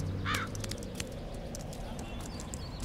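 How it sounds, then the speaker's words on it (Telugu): A crow gives a single short caw near the start, then quieter background sounds and faint voices carry on. "హే, కాకొచ్చింది."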